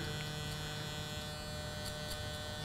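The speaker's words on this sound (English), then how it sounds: "I'm gonna start doing the taper here with my clipper" An electric hair clipper hums steadily at close range while tapering a beard during a fade and beard trim, a continuous buzzing drone with no talking.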